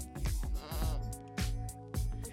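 A sheep bleats four times in a row, loud and close, each call a wavering nasal cry with short pauses between them.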